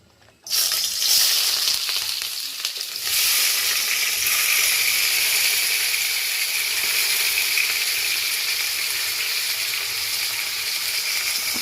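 Prawns with green chillies and onions hit hot oil for gongura prawn curry, bursting into a loud, steady sizzle that starts suddenly and carries on evenly with no talk.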